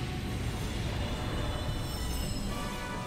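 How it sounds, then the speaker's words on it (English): A subway train pulls into a station in the Ratchet & Clank video game, a steady loud rumble of wheels on rails with faint squealing tones, heard alone throughout. "Ride the train to the Hall of Heroes. The A train is now arriving."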